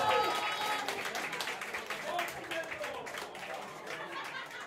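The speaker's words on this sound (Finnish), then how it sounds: "annetaan aplodit" Crowd applause for a bassist as the band's members are introduced at a concert, fairly loud clapping with some laughter and chatter mixed in, gradually easing off.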